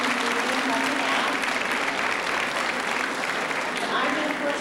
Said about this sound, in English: So give them a big round of applause, please